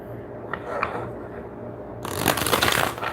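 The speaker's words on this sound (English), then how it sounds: "And we're going to shuffle the deck." A tarot card deck is shuffled, a soft riffle at first, then a louder, denser flurry of card flicks toward the end.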